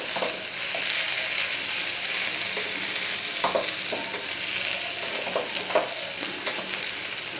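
Dry potato bhaji stir-fries in a pan over a gas flame, giving a steady close sizzle broken by irregular scrapes and taps of the spatula, with no voices.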